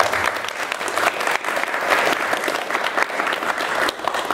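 Sustained, dense applause from a graduation audience in a school gym, steady and loud throughout with no voices standing out.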